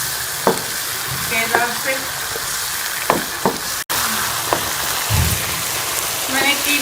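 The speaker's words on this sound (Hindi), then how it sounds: "कीमे को हम 3 से 4 मिनट मसाले के साथ अच्छी तरह से भून लेंगे" Minced meat frying with spices in a pan, a loud steady sizzle with the scrape and clatter of stirring throughout, close up, with a brief spoken word.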